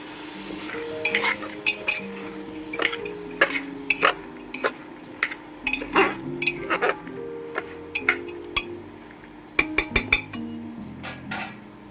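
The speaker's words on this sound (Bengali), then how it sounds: "ভালো করে একটু নেড়ে দেবো আমি এবারে।" Ingredients for sambar, including peas or dal, are stirred in a cooking pot, with repeated clinks and scrapes of a utensil against the pot over a soft background sizzle, close and irregular.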